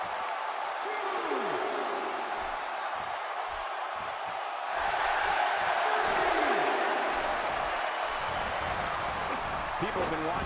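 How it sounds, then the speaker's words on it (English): Crowd noise in a Brock Lesnar vs Sami Zayn online wrestling video game match, a continuous roar that swells louder midway, heard under steady commentary voices. "by the sound of this crowd, I think they're getting what they wanted"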